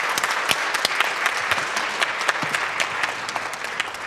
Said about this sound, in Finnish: annetaan vielä lopuksi isot aplodit meidän panelisteille ja kaikille